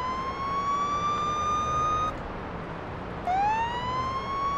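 A police car siren in the Police Simulator video game wails with a steady rising tone, cuts off briefly, then sweeps back up loudly over a constant background rumble of engine and traffic.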